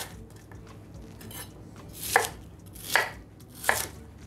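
Knife chopping small onions for a meat grinder, prepared for school-canteen style cutlets: three distinct crisp chops on a board at a steady interval, close and clear, with quiet kitchen background between strikes and no talking.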